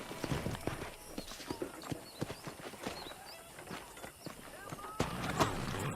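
Steady clip-clop of horse hooves trotting along in the video game Red Dead Redemption, with a person talking over the rhythmic hoofbeats.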